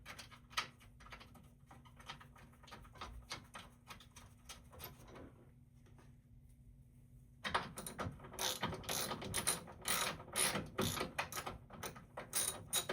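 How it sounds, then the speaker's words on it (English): A hand ratchet with a 10mm socket tightens the battery bracket on a 2016 Toyota Corolla, rapid close clicking in steady strokes that grows louder and denser in the second half. "Using 10mm socket, secure this end."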